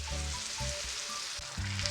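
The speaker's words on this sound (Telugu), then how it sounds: "ఒక 2 మినిట్స్ ఫ్రై అయితే సరిపోతుంది" Mango pickle paste (thokku) fries in a hot tempering with curry leaves, giving a loud, continuous sizzle and crackle with a few soft stirring knocks, close up and without talk.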